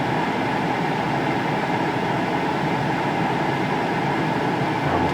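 A steady, loud whooshing fan drone from a Ninja Foodi Dual Zone air fryer running continuously at 240 degrees, a dense even roar with no pauses or voices.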